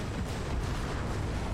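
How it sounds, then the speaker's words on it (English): An explosion in the space shooter Everspace 2 rumbles out as a dense, loud, sustained blast roar filling the whole moment, heard alone without talk. "That looks like something that could explode."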